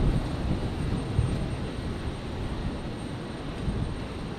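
An airliner, Qantas flight QF58, approaching to land on runway 01 left at Brisbane International Airport on a stormy night, a steady low rumbling roar that holds fairly even throughout without voices.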